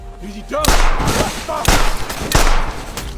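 Several loud gunshots in a film crack out in sharp bursts, a few quick blasts spaced across the moment, with a brief muffled voice at the start.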